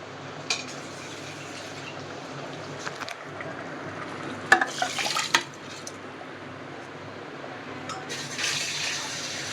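Water splashes and pours into a cooker pot onto rice in short bursts, with a few clinks of metal, fairly faint against quiet room noise.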